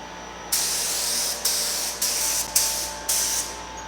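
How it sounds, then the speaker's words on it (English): A spray gun lays dark blue paint over light gray primer on a 1950 Chevy truck hood in five separate loud hissing bursts, each starting sharply and lasting about half a second to a second. "We are covering light gray primer with dark blue paint, so it will show through."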